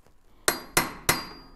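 Hammer blows strike the emergency brake of a 1914 Studebaker SC-4 during rear axle removal: three sharp, close metallic hits, evenly spaced, with a bright ringing edge and no talk.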